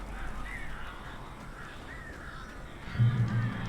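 Crows caw repeatedly in the Alan Wake video game, a string of harsh calls over an ambient game background, followed by a louder, lower burst of game noise near the end.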